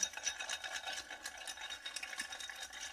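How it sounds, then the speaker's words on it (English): Cocktail stirred with ice for dilution, a steady close run of clinking and rattling ice against the glass for about three seconds, with no talking. "let's go ahead and stir the cocktail for dilution"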